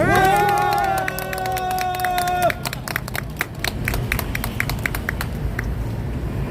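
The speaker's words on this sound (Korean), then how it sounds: "우리 민경욱 대표님, 박주현 변호사님을 위해서 여러분 박수 부탁합니다" Crowd applause at a street rally near Gangnam Station. A voice with a sustained tonal sound opens, then scattered claps build into steady, moderately loud clapping from many hands.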